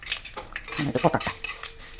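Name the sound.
seeds spluttering in hot oil in a pan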